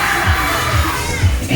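Riders on a fairground ride in Cardiff scream and cheer as a loud, continuous crowd noise with some brief swells.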